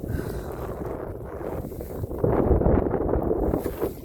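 Wind buffets the microphone aboard a small sailing canoe heading upwind off the South Devon coast, a low roaring rumble that swells louder partway through, with faint water movement beneath.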